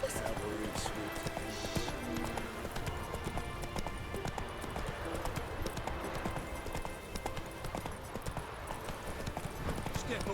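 A horse galloping in a video game, rapid rhythmic hoofbeats running continuously under game voices and a busy battle soundscape.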